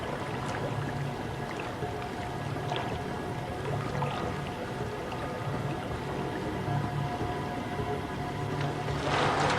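A magician plunging into a water-filled escape chamber produces a continuous rushing, sloshing wash of water, steady and moderately loud, swelling into a heavier splash at the very end, with no voices.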